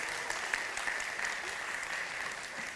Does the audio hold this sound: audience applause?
yes